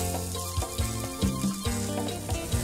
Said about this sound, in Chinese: 将大约一口大小嘅份量嘅芽菜分开放落个 pan 度，由得佢慢慢煎一阵